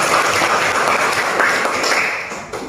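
Audience applause at an Indonesian talk, a dense, even wash of clapping that holds steady and thins slightly at the end.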